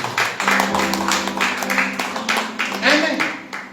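A church congregation at a Sunday worship service claps in a steady rhythm of sharp, evenly spaced beats, with a voice and sustained musical tones underneath.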